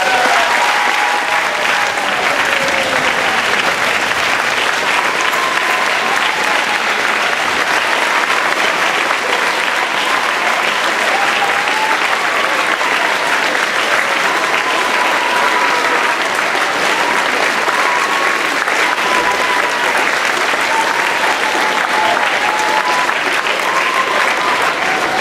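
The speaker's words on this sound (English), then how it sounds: "I want you to give a huge round of applause and a standing ovation for the best head of school" Sustained applause from a school convocation audience giving the head of school a standing ovation, steady and dense clapping throughout with crowd noise and a few faint cheers.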